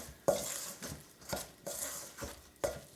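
Northern pike fish patty mixture being mixed by hand in a bowl, giving repeated wet squishing and stirring strokes with sharp onsets at regular intervals and no talk.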